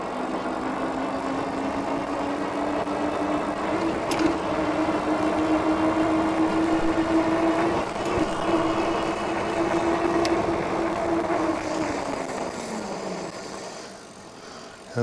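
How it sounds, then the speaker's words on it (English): A Hiboy P6 electric bike pulls away on throttle alone with no pedaling, its motor whine rising steadily in pitch and then dropping off as it slows, under rushing wind and road noise. "I'm gonna hit the throttle here and just take off without pedaling at all"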